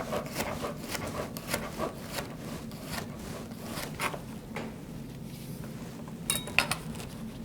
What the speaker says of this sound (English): I'm going to slice up a little bit of cucumber